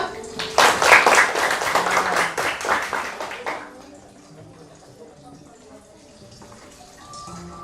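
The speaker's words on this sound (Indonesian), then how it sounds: "Oke, tepuk tangan." A group claps together during a classroom teacher-training session, with about three seconds of loud, dense clapping that stops abruptly and leaves a quiet room.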